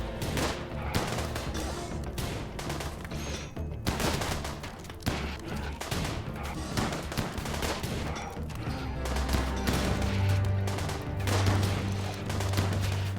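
Gunfire in the video game RimWorld, with dense bursts of shots rattling almost nonstop, like rapid volleys and machine-gun fire, over a constant layer of game music and noise.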